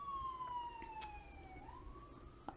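A distant siren wails faintly in the background with a single long falling then rising tone, accompanied by a few soft clicks.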